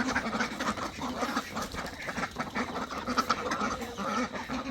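Several domestic ducks quack repeatedly at close range around a rural Bangladeshi home, their calls overlapping in a busy, continuous chatter with some faint background voices.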